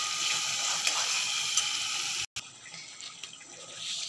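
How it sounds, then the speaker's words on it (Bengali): Spice paste sizzles steadily in hot oil as it is sautéed for a vegetarian dish, a dense close hiss that cuts out briefly and then continues slightly softer. "মশলাটা 2-4 মিনিট ভালো করে কষিয়ে নিচ্ছি"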